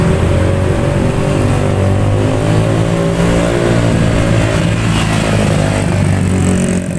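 A motorcycle engine drones loud and close on a road with a steady, slightly rising mid-pitched growl and no talk.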